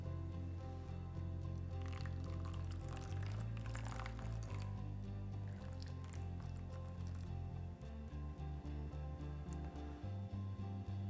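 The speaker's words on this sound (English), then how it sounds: "when I pour the water," Water is poured onto a superabsorbent material that swells as it soaks, giving soft wet squishing and liquid trickling at low volume over a steady background hum, without speech.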